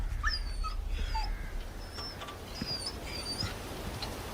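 A dog whimpers in a video game, a series of high, thin whines and short yips repeating over a quiet background, with no talking.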